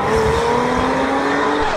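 Porsche 993 exhaust under load on a dyno roller: a loud, steady engine roar held close to the microphone, the tone rising slightly through the short clip.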